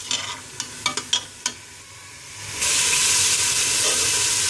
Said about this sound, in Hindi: इसमें चिकन ऐड कर चुकी हूँ और जिंजर गार्लिक पेस्ट के साथ मैं चिकन को फ्राई कर